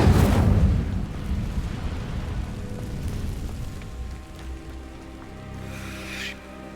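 The Incendio fire spell ignites dry vines in Hogwarts Legacy: a loud, rumbling burst of flame flares up at once, then fades into a softer crackling burn, with a low tonal hum and a faint shimmer near the end.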